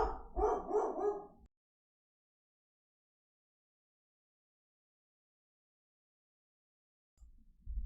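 A pet dog indoors at home barks in a short burst of several loud, close barks, followed by a long silence and a brief low rumble at the end.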